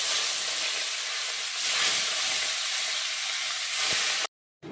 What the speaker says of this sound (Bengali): মাছগুলো তেলের মধ্যে দিচ্ছি